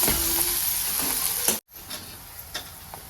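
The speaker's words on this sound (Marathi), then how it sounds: "कांदा टाकल्यावर टाकला आता आपल्याला कांदा लाल होऊ द्यायचा आहे चांगला" Onions sizzle loudly in hot oil with curry leaves while cooking a tur bean pod amti. The steady, close frying cuts out briefly, then returns softer with scattered crackles and pops.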